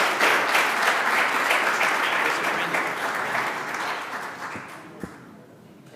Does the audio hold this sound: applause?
yes